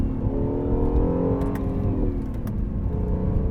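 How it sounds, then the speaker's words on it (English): An Acura NSX's twin-turbo V6 revs and pulls hard on an empty canyon road, rising and falling engine tones with gear-change dips, loud and close throughout with no talk. "Just the sweet sound of that twin turbo V6."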